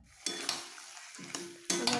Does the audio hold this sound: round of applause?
no